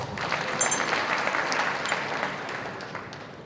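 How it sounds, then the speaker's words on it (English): An audience at an HR practitioners' conference breaks into a round of applause, dense clapping that swells at once and then slowly fades out over a few seconds, with no talk over it. "Another round of applause."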